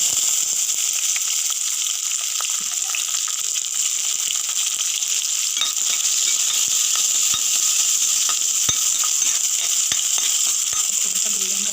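Onions and green chillies sizzle in hot oil as they fry toward golden brown for palak paneer, producing a steady, close, continuous hiss with no pauses.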